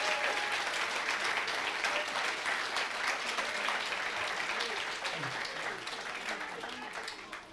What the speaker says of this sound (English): please give one more round of applause for our incredible graduates